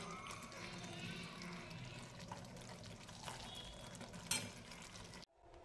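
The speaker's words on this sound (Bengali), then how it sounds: "তো ফাইনালি এবার আমি সার্ভিং ডিশে ঢেলে নেব।" Shahi papaya korma is poured from a cooking pot into a serving dish, making a soft, steady wet slosh and a faint sizzle, closing with a brief clink before the sound cuts off.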